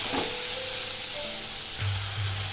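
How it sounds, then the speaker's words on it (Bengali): Cumin powder, garam masala and ginger paste are sautéed in a pan for a cabbage curry, producing a soft, steady sizzle and hiss close by with a low hum underneath. "জিরে গুঁড়ো আর বেটে রাখা আদাটাকেও দিয়ে ভালোভাবে কষিয়ে একটু ভালোভাবে কষিয়ে নেবো"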